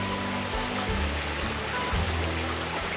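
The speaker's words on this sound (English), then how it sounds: "The sound of water when we sleep." Steady, broadband rushing of a flowing stream beside a campsite fills the clip evenly from start to finish, close and continuous, with no voices over it.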